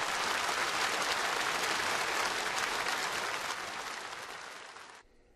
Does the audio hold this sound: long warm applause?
yes